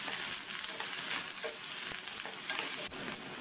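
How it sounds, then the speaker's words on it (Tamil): Radish, onion and ginger sauté with turmeric powder in a hot pan, giving a steady, close, bright sizzle with faint stirring scrapes throughout and no talking. "இந்த வெங்காயம் இஞ்சி ரெண்டுமே இந்த முள்ளங்கியோடு சேர்ந்து இன்னும் நல்லா வதங்கட்டும்"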